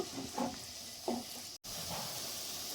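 Masala frying in a pan for brinjal curry, a soft, steady sizzle and hiss close by with a few faint clinks, continuing alone at low volume.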